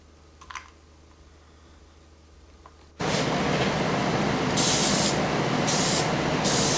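Quiet room tone with a faint tap, then a sudden loud, steady hiss of a spray gun applying primer to a Hot Wheels toy car, continuing with short pulsing bursts.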